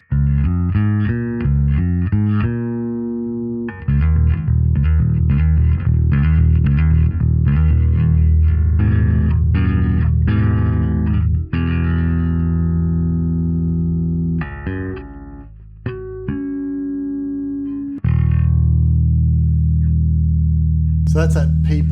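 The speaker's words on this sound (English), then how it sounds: "this is going to represent a P pickup with round wound strings on it, rotor sound round wounds" Bass guitar with a P pickup and roundwound strings plays a punchy, bright riff of plucked notes and short phrases, loud and close, with brief pauses between passages.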